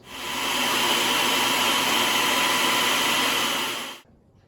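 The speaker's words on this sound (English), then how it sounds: "we're ready to puree it for about 30 seconds" A food processor pureeing pizza sauce ingredients with sea salt and ground black pepper, a loud, steady motor whir that runs for about four seconds and then stops abruptly.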